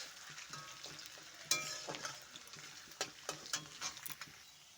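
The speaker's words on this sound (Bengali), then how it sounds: "আলুটা আমি অল্প লাল লাল করে ভাজি" Potatoes frying in a pan for poha, a soft, fairly quiet sizzle with intermittent spatula scrapes and taps.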